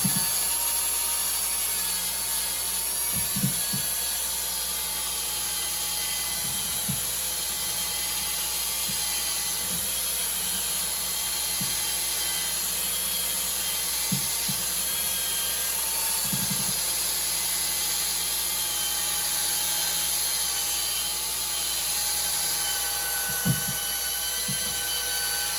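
Power buffer running polishing discs over a polyurethane finish, a steady high whine throughout with faint intermittent knocks and clicks as the disc works the surface.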